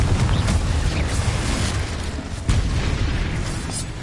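Spell explosions in the video game Hogwarts Legacy, including Confringo blasts, sound as booming bursts and pops over a rumbling backdrop of battle noise, close and loud.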